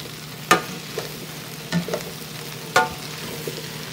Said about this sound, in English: So into the pot goes all these nice, wonderful cut up little leekies